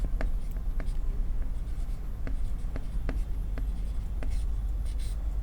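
Chalk taps and scratches on a classroom board as numbers are written out during a math lesson on squares, with short strokes and clicks in an irregular rhythm close by, over a steady low background rumble.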